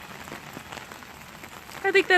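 Rain falls steadily outdoors, a dense soft patter of drops on surfaces throughout, with a brief voice sound near the end.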